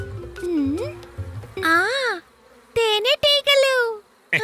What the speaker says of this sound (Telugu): ఈ తేనెటీగలు వర్షం వస్తోంది అన్న కబురుని చెప్తాయి.